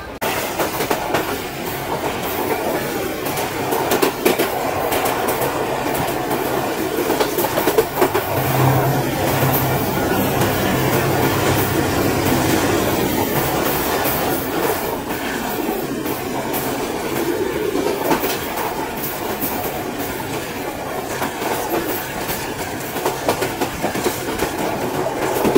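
Inside an AC coach of a summer vacation special train, a steady rumbling roar and rattle of the moving train carries on without a break, with faint rhythmic clatter from the wheels.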